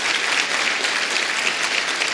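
Steady, dense applause from a crowd at a political speech by Ciro Gomes in João Pessoa, sustained and even throughout with no voices rising above it.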